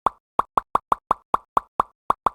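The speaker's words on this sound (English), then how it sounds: "Just sample a popping sound, you know?" A sampled popping sound effect fires eleven crisp, close plops in a quick, slightly uneven rhythm, each a short hollow pop with a fast decay and silence between hits.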